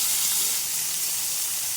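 Tomatoes frying in oil for drumstick leaf chutney give off a steady, close, even sizzle and hiss that holds at one level throughout, with no talking over it.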